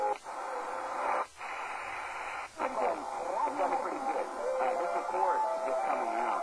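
Shortwave radio tuned to a frequency carrying two stations at once, a hiss of static under overlapping broadcast audio, fading in and out with brief dropouts, a voice audible through the noise.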